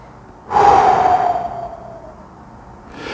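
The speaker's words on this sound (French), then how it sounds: "prendre une bonne et profonde inspiration" One deep, slow breath is drawn in through the mouth, close and clear, rising abruptly and tapering off over a couple of seconds in a quiet room, with a soft start of another breath at the end.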